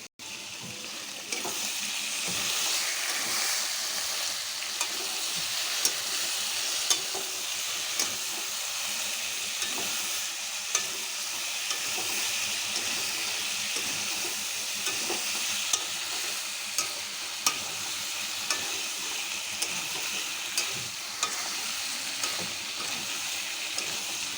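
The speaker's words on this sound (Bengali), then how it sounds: "এবারে আমি মশলাটা কষাবো" Spice paste for chicken curry is stirred and sautéed in a pan, giving a steady, moderate sizzle with repeated scraping taps of the spoon throughout, close and without talk.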